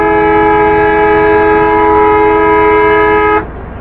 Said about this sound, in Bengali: একটা হর্ন দিতে হয়